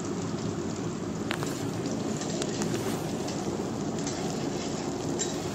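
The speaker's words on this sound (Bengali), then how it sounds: "হালকা হালকা করে পেঁয়াজটাকে ভেজে নিতে হবে, খুব বেশি লাল হবে না।" Sliced onions frying in a hot pan for a creamy chicken malai handi, giving a steady, even sizzle that holds at one level throughout with a few faint clicks of stirring.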